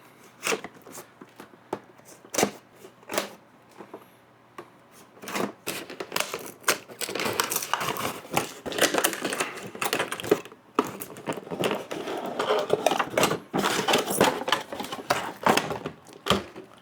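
Star Wars Funko figure being unboxed from a taped cardboard box, close scratchy tearing, crinkling and tapping of cardboard and tape in irregular bursts, growing busier, no talking.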